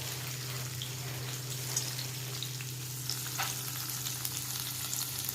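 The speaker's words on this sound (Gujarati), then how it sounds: "આવી રીતે હું બધા જ મગ વઘારી દઈશ આની અંદર." Steady sizzling of soaked mung beans frying in hot oil, a continuous crackling hiss with occasional small pops, close and moderately loud.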